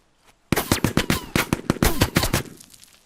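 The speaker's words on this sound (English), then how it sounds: "Look at those mortars drop." Rapid volleys of gunfire and thudding mortar impacts from the FPS shooter Exfil burst in suddenly and loudly, a dense rattling sequence of shots and blasts that fades out toward the end.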